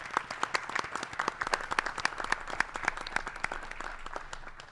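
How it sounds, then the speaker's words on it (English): Sustained applause from the audience at a school committee meeting, a steady dense patter of many hands clapping throughout, fairly close and even in loudness, with no talking. "So if we can give them a round of applause, please."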